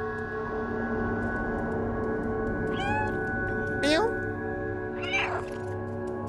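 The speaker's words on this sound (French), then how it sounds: "Sachez qu'à chaque fois que je miaule, c'est moi qui décide de miauler." A cat meows several times in the video game Stray, short rising calls over a steady hum of game music and ambience.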